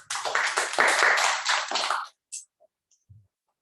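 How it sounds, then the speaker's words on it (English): A short burst of applause from a small group, about two seconds of clapping, then a few scattered claps and quiet. "So a big round of applause for Toastmaster Shalini."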